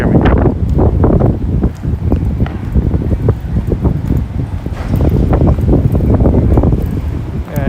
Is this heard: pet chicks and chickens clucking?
no